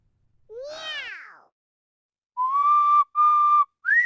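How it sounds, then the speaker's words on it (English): A person whistles a few clumsy, wavering notes: a rising swoop, then a pause and several short flat tones, close and clear with no talking. "I whistle badly."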